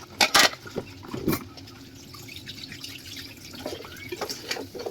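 Tap water running while food is rinsed in a home kitchen, a quiet, uneven trickle with a few sharper splashes and drips near the start, fairly faint and close by.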